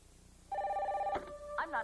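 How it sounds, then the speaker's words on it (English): Telephone ringing in a vintage television commercial: a steady electronic ring tone starts abruptly after a quiet lead-in and holds loud and clear, then breaks off into a brief burst of voices. "The phone's always ringing."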